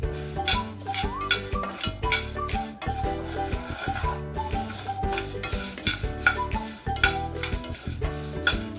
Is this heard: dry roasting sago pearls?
yes